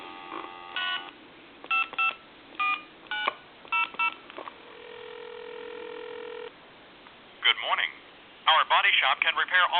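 Touch-tone keypad dialing on an AT&T Trimline telephone, model 210, with a series of short clear DTMF beeps in uneven groups, a sustained line tone, then a recorded voice begins answering.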